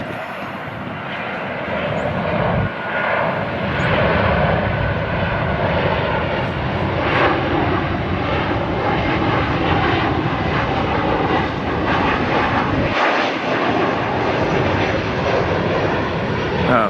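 A United Airlines jet at LAX produces a sustained, broad engine roar that stays loud and steady throughout, with a voice faintly audible at times under the noise.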